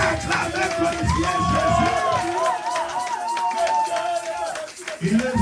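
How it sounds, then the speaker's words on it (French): A church congregation at a French-language service led by an apostle, erupting into loud crowd cheering and shouting that rises and falls, with a preacher speaking over the noise. "Est-ce qu'on peut acclamer, glorifier"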